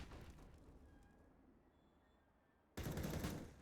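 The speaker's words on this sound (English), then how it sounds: "Jara's also throwing a few bullets back into that smoke" CS:GO gunfire on the Train map in a professional match, a quiet stretch of distant shots followed by a sudden loud burst of rapid automatic fire that carries on to the end.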